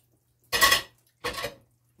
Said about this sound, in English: We're gonna cut the lime up.